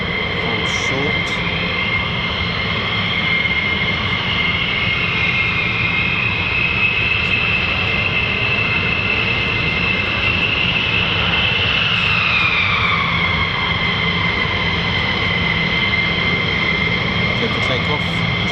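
F-15E Strike Eagle and F-35A Lightning fighter jets of the USAF 48th Fighter Wing hold short before takeoff at an RAF base, a steady loud jet engine whine and roar with a rising then falling tone, voices talking over it.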